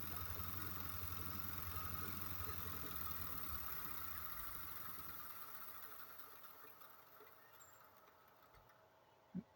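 A bench grinder's PSC motor on a 120V VFD hums and vibrates steadily, then slowly winds down toward a stop before reversing, fading quieter with a small knock at the end.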